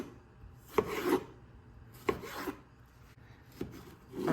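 Three distinct knife strokes cutting a tomato into strips on a cutting board, each a quick slicing rasp ending in a board tap, spaced about a second and a half apart, close and clear.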